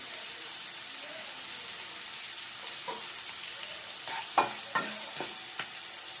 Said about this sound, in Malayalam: ഇനി നമുക്ക് നന്നായിട്ടൊന്ന് വഴറ്റി കൊടുക്കാം